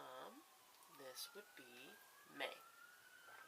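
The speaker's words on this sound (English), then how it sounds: "Excuse the sirens." A faint siren wails steadily in the background, sweeping slowly in pitch while a person talks over it.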